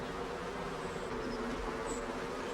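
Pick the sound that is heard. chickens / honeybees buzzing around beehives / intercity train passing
honeybees buzzing around beehives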